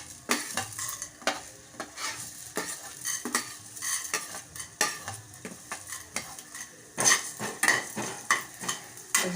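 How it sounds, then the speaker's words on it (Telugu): Cumin and coriander seeds fry in hot oil with a soft sizzle, punctuated by repeated sharp scrapes and clinks of a metal spoon stirring against the pan, close up and without speech. "ఈ జీలకర్ర ఇవన్నీ ఫ్రై అయ్యాక నూనె వేడెక్కినాక వేస్తాను."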